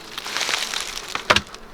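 Honeybees buzz around a farm hive, a brief, close, wavering hum with a louder pass near the end.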